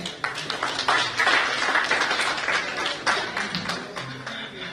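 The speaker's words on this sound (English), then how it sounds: "Kindly have a huge round of applause." An audience at a university international conference claps steadily for several seconds, a dense patter of many hands at moderate loudness.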